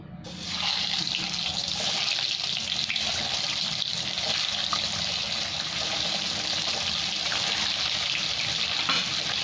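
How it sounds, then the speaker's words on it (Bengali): A steady, close crackling sizzle of eggs coated in salt and turmeric frying in hot oil continues without a break, with no voices. "এবার আমি এই তেলে ডিমটাও ভেজে নেবো।"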